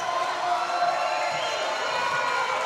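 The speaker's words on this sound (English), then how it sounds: "And they're doing the Seminole chant in the crowd here." Crowd at a girls' high school basketball game doing the Seminole chant, a sustained droning mass of voices filling the gym at a steady level throughout.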